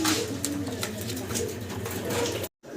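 Fancy pigeons kept for sale coo close by in low, repeated throaty murmurs over a soft background hum, and the sound cuts out abruptly just before the end.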